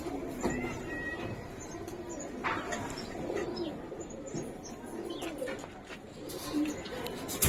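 Old-generation giribaz pigeons at a pigeon sale coo repeatedly at close range, with soft chirps and faint background voices woven through.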